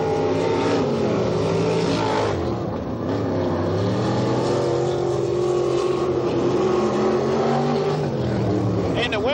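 Several race cars roar around a dirt track on the final lap of a 1992 Path Valley qualifying race, engines loud and droning steadily with shifting pitch, under continuous commentary.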